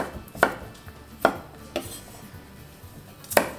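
Knife chopping food into small cubes on a cutting board in a home kitchen, four sharp separate chops spaced unevenly, close and clear with no talk.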